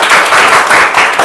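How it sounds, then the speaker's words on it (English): A school class applauds a seventh-grade student, a brief, loud burst of close clapping in quick pulses. "Please give a huge round of applause for Abhiraj."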